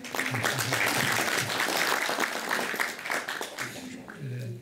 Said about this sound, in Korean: 우리 한 교수님께 다시 한번 감사의 박수를 좀 드리겠습니다.